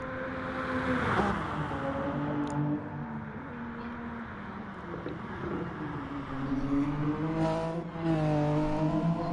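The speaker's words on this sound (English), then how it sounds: "It's lovely hearing these cars down that straight." Race cars in a racing video game roar down a straight, their engines rising and falling in pitch as they pass and shift, moderately loud with no talk over them.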